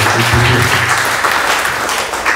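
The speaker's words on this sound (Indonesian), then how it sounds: "Kasih tepuk tangan yang meriah." Church congregation applauding during a sermon, a loud, continuous wash of many hands clapping that stays full and close for the whole stretch.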